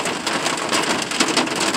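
Heavy rain pours down near a train station, a dense, steady hiss of drops that stays loud and unbroken throughout, with no voices.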